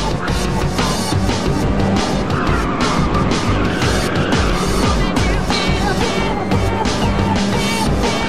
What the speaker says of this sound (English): Someone fired off some nitrous!